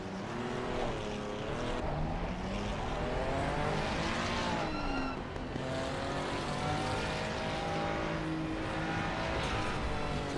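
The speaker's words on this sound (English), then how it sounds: "We've got Scott in his Ferrari trying to warm up his tires a bit." A Ferrari race car in a racing video game at Indianapolis, weaving to warm its tires: a continuous loud engine whine with rising and falling pitch sweeps, steady throughout with no talk.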